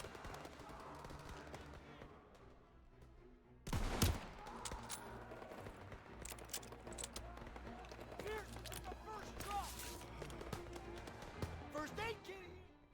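Distant, muffled gunfire in a Call of Duty game, scattered shots and short volleys with one louder crack, heard faintly under game voices and background noise.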